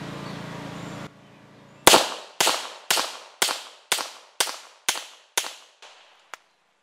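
Nine sharp pistol shots from a Star Super B firing .38 SWC bullets, evenly spaced about half a second apart with ringing decay, a final faint click, following a brief stretch of background noise.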